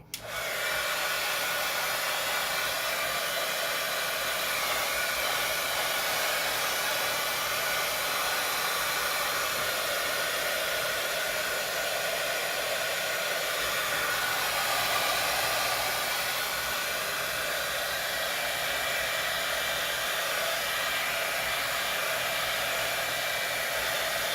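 A hair dryer blows steadily on an alcohol ink bunny painting, a close, continuous rushing whoosh that runs unbroken throughout without any talk.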